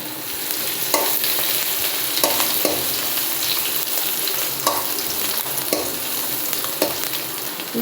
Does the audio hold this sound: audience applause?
no